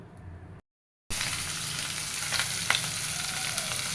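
Hot oil sizzles steadily in a pan, ready for frying fish coated in salt, turmeric and chili powder; a close, constant crackle, briefly cut out near the start, with no talking.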